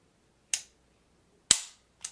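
Trigger reset clicks from a Smith & Wesson CSX pistol with a magazine inserted, three sharp, crisp metallic snaps, close and isolated, the first two about a second apart and a third following quickly.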